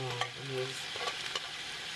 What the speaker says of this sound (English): seasonings hit that pan